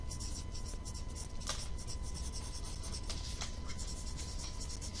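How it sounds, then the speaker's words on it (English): Pen scratching on paper in quick, soft strokes, a continuous faint rustle close up with a few slightly sharper marks, under steady background hiss. "So I'm going to write stunt performers"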